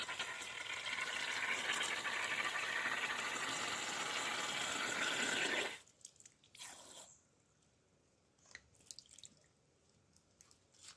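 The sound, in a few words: glass bottle being filled with water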